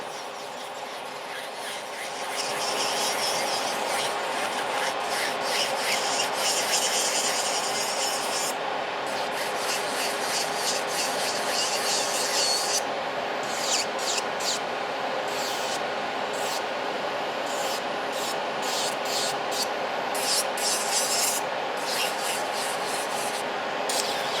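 A nail file scrapes steadily at a lifted corner of a fiber gel nail decorated with Swarovski crystals, a close, continuous abrasive rubbing with quick repeated strokes that picks up after the first couple of seconds and runs alone to the end.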